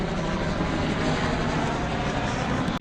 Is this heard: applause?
no